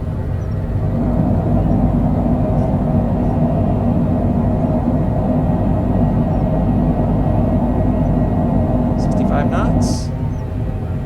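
Aircraft thrust reversers roar steadily during a landing at Mammoth Yosemite Airport (KMMH), a loud, constant broadband rumble heard from inside the cockpit that eases slightly near the end, with a couple of brief higher clicks.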